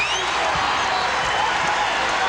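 An arena crowd at a 1996 NBA Finals game between the Chicago Bulls and Seattle SuperSonics roars in a steady, dense wash of cheering, with a commentator's voice running over it.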